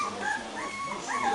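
A fourteen-day-old puppy whimpers in short, high, thin cries close by, several whines strung together over a soft background.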